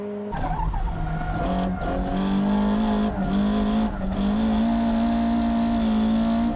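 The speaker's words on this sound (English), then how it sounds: "The twin injection engine seems to be putting out more power than Tsuchiya's Hachiroku." A car with a twin injection engine races downhill on a mountain course, its engine holding a loud sustained high note through gear changes while tires squeal, all close and continuous with no talk.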